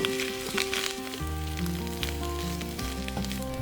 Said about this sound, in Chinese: 下土豆翻炒，一边炒一边拿锅铲碾压。